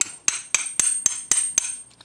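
A light hammer strikes a brass fitting to drive it loose, seven sharp metallic blows falling in a fairly steady rhythm about a quarter second apart, close and clear with no talk.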